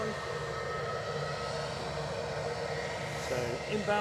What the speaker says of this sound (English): That is your inbound British Airways A321.